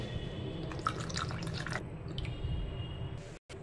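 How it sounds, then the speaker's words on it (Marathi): Cold water splashes and trickles into a glass for under two seconds, then a steady gurgling fill continues briefly before a short cut. "यामध्ये मी थंड पाणी घालून घेते"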